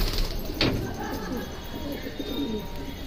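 Startled pigeons give a burst of soft coos and fluttering close by, with a sharp flapping rush early on, then scattered cooing calls fading over a quiet outdoor background.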